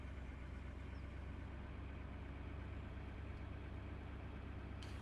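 A skid steer's engine runs steadily at a constant idle-like drone in Farming Simulator 17, low and continuous without pauses or talk.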